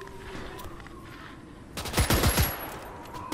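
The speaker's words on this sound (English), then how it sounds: "The guy above me was shooting me all the time." Gunfire bursts out in the Gates of Hell war game, a rapid rattling fusillade rising suddenly after a quieter stretch and lasting about a second and a half, fairly close and loud.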